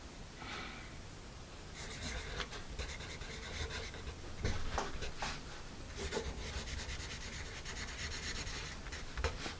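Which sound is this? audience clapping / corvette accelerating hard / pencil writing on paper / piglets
pencil writing on paper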